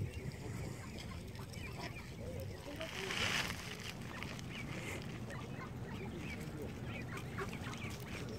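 Wild geese and ducks honking and clucking close by during hand feeding, with a continuous jumble of calls and people talking over them.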